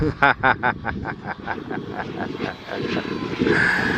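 Engine of a Cessna on floats backing up on the water at an RC fly-in, a steady aircraft drone throughout with an announcer's voice talking over it.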